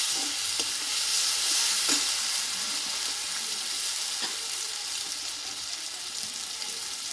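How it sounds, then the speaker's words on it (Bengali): Green chilli and mustard paste fry in a pan, making a loud, continuous hissing sizzle throughout, with a few soft scraping taps from stirring and no voices. "এক মিনিট মতো এভাবে নাড়াচাড়া করে নেবো"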